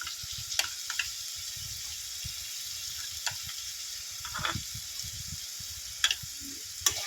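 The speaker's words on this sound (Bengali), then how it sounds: "গ্যাসটা একেবারে কিন্তু কমানো আছে হালকা আঁচে এটাকে আবারও কষিয়ে নেব" A paste of cashew, poppy seed and fennel cooks in oil in a pan over low gas heat, with a soft, quiet sizzle and occasional sharp clicks and scrapes from stirring.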